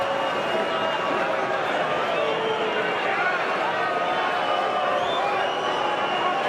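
A boxing arena crowd at the Canelo vs Kovalev fight keeps up a steady, dense roar of murmuring and jeering, with no single voice standing out.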